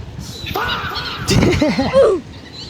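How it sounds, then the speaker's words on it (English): Birds swarm around a man feeding them prawn crackers on a Korean beach, giving several loud, rough cawing calls close by in quick succession. "he was getting swarmed by the birds because he was feeding them prawn crackers"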